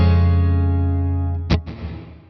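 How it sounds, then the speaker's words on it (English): A ringing guitar chord decays through an ALABS reverb pedal set with pre-delay, then a short sharp strum cuts in, followed by a tail of echoing wash. "So you can hear there's a bit of a delay before the reverb comes in."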